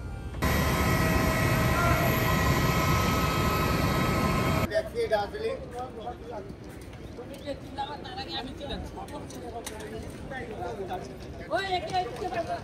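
Steady broadband roar of an airplane cabin on a flight to Bagdogra fills the first few seconds, then continues at a lower level as people talk nearby over the engine hum.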